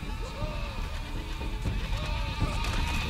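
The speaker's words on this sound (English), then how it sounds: "Look, sheeps. Kill them." Sheep bleat repeatedly in the video game Overlord, several wavering calls rising over a constant game soundscape with background music.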